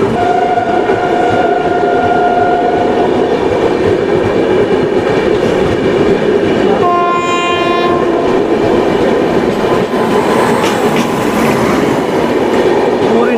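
A passing express on Indian Railways, the Sikkim Mahananda Express with a Kavach-fitted locomotive, roars past loud and close in steady wheel-and-coach rumble, with a horn tone sounding early and again midway.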